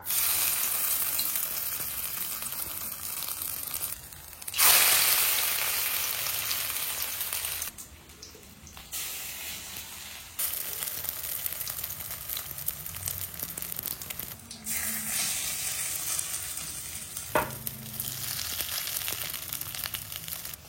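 Fritters of greens, lentils and coconut mixed with onion and garlic, dropped into hot oil in a kadai, give a loud, continuous crackling sizzle broken by brief pauses and occasional clatters.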